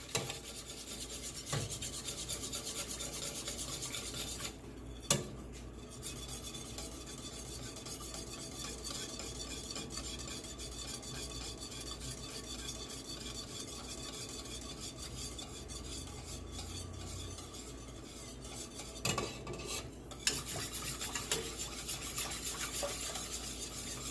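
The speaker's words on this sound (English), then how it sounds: "just keep whisking" Homemade condensed cream of chicken soup whisked in a pot over low heat: a continuous, quiet scraping and rasping of the whisk against the pot, steady for the whole stretch with a couple of brief pauses.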